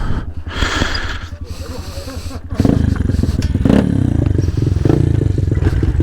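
A stock Honda CRF 70 pit bike on a track runs with a rough, close engine putter that jumps louder and busier partway through as it revs, carrying on over wind noise.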